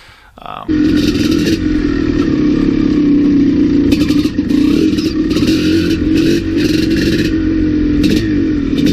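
A Maico 700 dirt bike ridden along a wide trail; a loud, steady engine drone with fluctuating revs continues throughout, close to the microphone, with someone talking over it.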